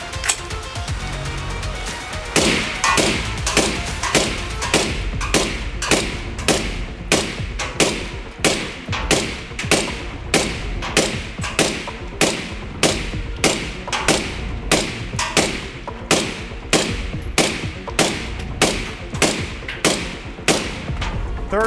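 Suppressed 5.56 NATO rifle shots through a B&T SRBS-Ti suppressor, fired in a long steady string of about two shots per second, each a sharp close crack, with no talking.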